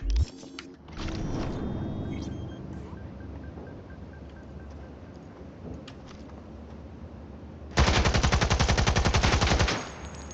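Automatic gunfire from a weapon in a video game, with a long rapid burst of loud shots near the end after quieter game ambience and scattered earlier noises.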